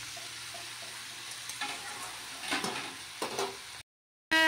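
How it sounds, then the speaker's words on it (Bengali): Fresh rohu fish fries in a pan with a faint, low sizzle, broken by a few sharp clinks and scrapes from stirring, then a sudden cut to silence and a short burst at the very end. "দেখো এখানে রুই মাছ ভাজছি, জ্যান্ত রুই"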